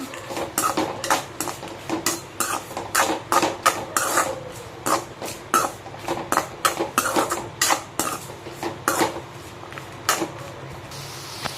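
Spoon scraping and clinking against a pan as brinjal, onion and tomato are sautéed, a steady run of close metallic stirring strokes with a soft sizzle beneath, no voices.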